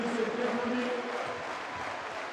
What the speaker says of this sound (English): And Dino Raja taking the applause.